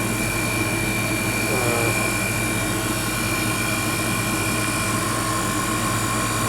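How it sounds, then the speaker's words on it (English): Compressors on a Rivacold refrigeration unit run loud and close, a continuous droning hum with a strong steady tonal whine and no break across the stretch. "we put it all back together as it was and turned it on, and compressors come on."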